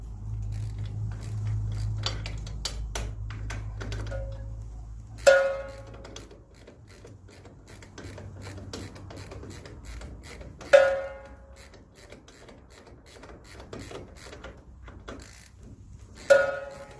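A ratchet wrench works on suspension bolts of a 2018 Chevy Colorado, giving close, quiet metallic clicking bursts, with three sharp ringing metal clanks spaced several seconds apart.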